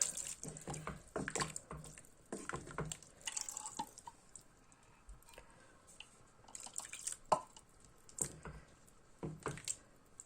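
Sauce for a celeriac dish is poured and stirred into the main pot, giving soft, quiet wet drips, squishes and clinks in irregular bursts close by.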